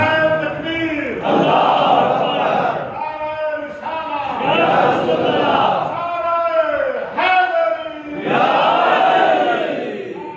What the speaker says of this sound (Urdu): ایک خوبصورت نعرے کا سہارا دے کر بھائی آ جائیں گے